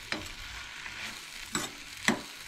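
Turmeric sizzling in a pan for a Goan chicken recipe, stirred in three distinct scraping strokes over a low, steady frying hiss, close and quiet with no voices.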